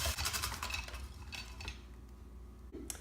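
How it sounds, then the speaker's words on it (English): A number 3 chopper comb chops half an onion into meat in a pan, giving continuous close scraping and clinking over a low rumble. The sound is fairly quiet and dense. "we're going to use the number 3 comb and simply going to chop it into the meat"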